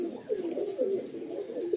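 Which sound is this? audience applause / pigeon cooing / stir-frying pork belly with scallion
pigeon cooing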